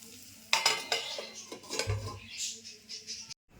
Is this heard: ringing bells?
no